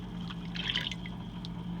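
Hand-dyed yarn fibre lowered into a prepared dye pot made with blood orange energy drink: a brief, soft liquid slosh and trickle near the middle, over a steady low hum.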